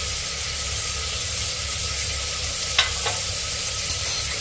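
Rock salt stirred and roasted in hot oil in a pan for a Navratri Sindhi thali, a steady close sizzle with a few scraping stirs near the end and no talking.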